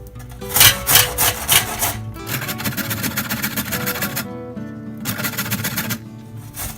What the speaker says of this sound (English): now I'm going to grate the carrots.